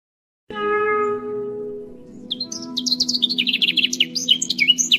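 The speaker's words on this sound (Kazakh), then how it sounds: "шырмалған шөп арасынан шыға алмай жатқан кішкентай балапанды көреді" A sustained tone fades out, then a baby bird chirps rapidly in quick, high-pitched bursts, clear and close.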